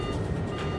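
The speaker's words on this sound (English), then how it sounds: "TCAS, sounds an alert." An aircraft's TCAS traffic collision avoidance alert sounds in the cockpit, a brief electronic tone heard faintly over a dense background rumble, with no voices.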